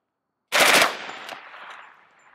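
UMP 45 firing 185 grain Remington hollow points, a single loud, close gunshot with a sharp blast followed by a long fading echo and ringing tail.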